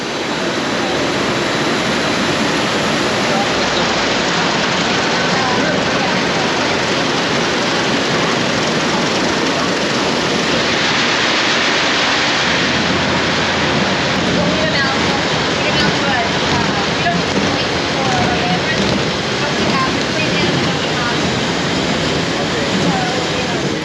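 Steady broadband spray of water rinsing citrus fruit on a packing line, loud and continuous with machinery rumble underneath and no pauses throughout.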